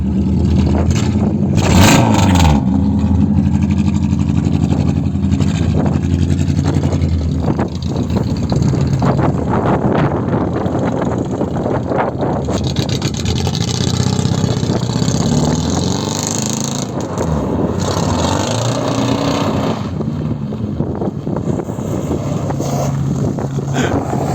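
A Peugeot 206 three-door car engine rumbles loudly nearby as it drives slowly into a workshop, the low droning hum steady throughout with some wind buffeting the microphone.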